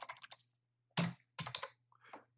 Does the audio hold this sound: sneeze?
no